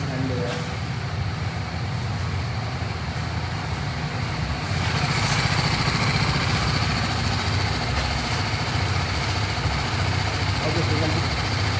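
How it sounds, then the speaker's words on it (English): A BMW superbike, oil-cooled, idles steadily and close by with a continuous low rumble throughout, a slight rise in level partway through, and people talking over it. "Okay, so we can kill the engine."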